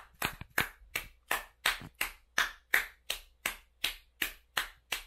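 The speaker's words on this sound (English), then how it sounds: "everybody just give her a round of applause." A small group claps steadily for a person being welcomed at a casual Japanese snack tasting, roughly a dozen crisp, evenly spaced claps close by with no talking.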